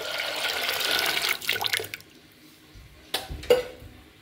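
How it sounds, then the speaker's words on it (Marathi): Water pours into a vessel of soaked chana dal being prepared for puran, a steady splashing stream for about two seconds, then quiet with a few sharp clinks of a utensil against the pot. "आता ह्याच्यामध्ये आपल्याला डाळ बुडेल इतकं पाणी टाकायचंय"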